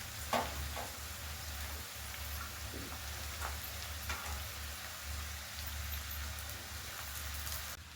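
Vegetables and boiled chowmein are stir-fried in a pan for egg chowmein, giving a faint, steady sizzle broken by occasional scraping stirs, with no talk.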